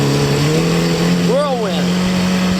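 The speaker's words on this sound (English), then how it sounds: "The engine's running great." Mercury 300 outboard engine pushing a Whirlwind boat with two people aboard, droning steadily with a strong low hum, sweeping briefly up and down in pitch midway, with a voice talking over it.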